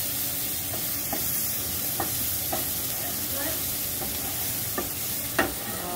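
Beef browns in a pan over medium-high heat, giving a steady close sizzle with brief stirring scrapes and taps spaced every second or so.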